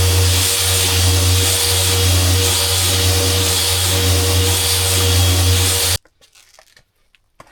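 A power sander fitted with 40 grit paper works the hull of a cedar strip canoe, roaring loud and steady for about six seconds before stopping abruptly and leaving faint handling noises.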